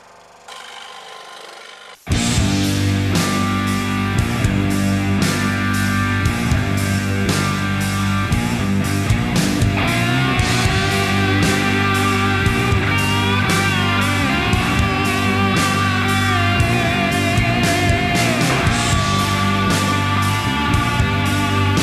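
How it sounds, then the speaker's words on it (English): Jigsaw cutting wood into delicate parts for a tiny rubber band shooter, a steady loud mechanical buzz that runs on after a brief quieter start, close up and unaccompanied by speech. "Now it's time for the saw work."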